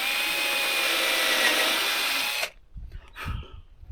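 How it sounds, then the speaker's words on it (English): A power drill pre-drills a raw cedar bed rail for a queen bed, whirring loud and steady for about two and a half seconds, then stopping abruptly, followed by brief thumps and a short scrape. "So just get a little pre-drill in there."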